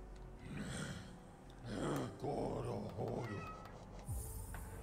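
A cat meows softly a few times amid background game sounds and a low hum.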